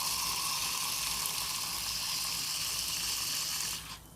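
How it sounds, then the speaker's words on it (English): Deionized water pouring from a nozzle into a cup, a steady close hissing rush that cuts off abruptly near the end. "Now we're going to fill up this cup with the deionized."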